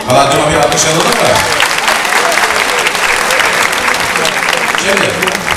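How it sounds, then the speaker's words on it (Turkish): Sustained applause from a concert audience at a choir performance in a cultural centre hall, loud and dense with steady clapping throughout, a few voices mixed in. "Kalancıma bir alkış alalım mı?"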